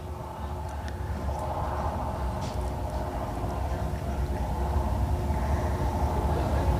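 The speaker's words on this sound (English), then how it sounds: "this is our absolutely top-notch janitorial Electric City four-cylinder mini class" Four-cylinder mini class race cars circle Electric City Speedway in Butler, Missouri, their engines forming a steady, distant drone of mixed motors that slowly swells in loudness throughout.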